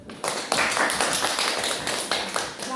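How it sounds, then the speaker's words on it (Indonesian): A classroom of students clapping their hands together in a dense, continuous burst of applause, close and fairly loud, with a few louder claps standing out. "Sama-sama kita tepuk tangan."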